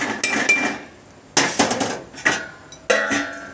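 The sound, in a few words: lid being put on a pot of tahri rice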